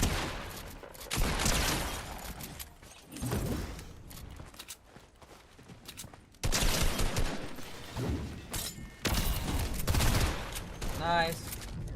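Rapid bursts of gunfire from a video game shooter, loud and dense in two main stretches with a brief quieter gap, with a player's voice talking over the shots.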